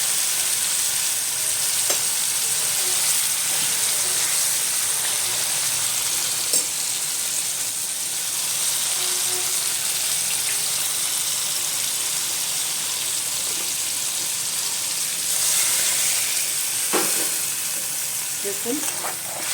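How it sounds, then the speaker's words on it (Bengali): Fish frying in a wok of oil with black cumin seeds, for a Bengali raw hilsa bhapa dish: a loud, continuous close sizzle with occasional crackles, spatters and clinks, and no talk. "এবার মাছগুলো ছেড়ে দেবো কড়াইয়ের মধ্যে।"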